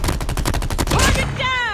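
Rapid automatic gunfire from the Call of Duty: Mobile Safeguard mode, a steady burst of close, loud shots that gives way to a ringing electronic whine and ricochet-like tones near the end.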